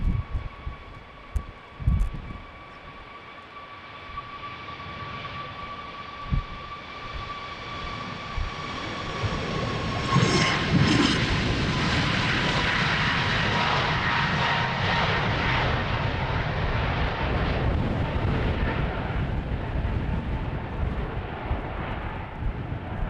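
A TUI Boeing 737 MAX jet takes off from runway 36L at Amsterdam Schiphol in windy weather, its engine roar building from a distant whine to a loud, sustained rumble that stays strong as it climbs away, with wind noise throughout.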